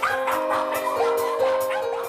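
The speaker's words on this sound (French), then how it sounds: "Et forcément, 7 chiens, ça fait du bruit." Seven dogs in a family kennel in a residential suburb bark and yip together, a continuous overlapping chorus of rapid barks and whines, close and loud.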